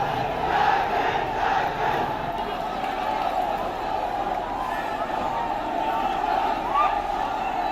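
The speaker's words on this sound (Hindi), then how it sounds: "कलेक्ट्रेट के अंदर ये भीड़ दाखिल होती हुई, बैरिकेडिंग लगाई गई थी सुरक्षा के मद्देनजर, उसे भी तोड़ दिया गया।" A Sarv Adivasi Samaj protest rally crowd storms the collectorate compound in Chhattisgarh during a Bharat Bandh, breaking through barricades, with a loud, continuous mass of shouting and chanting voices.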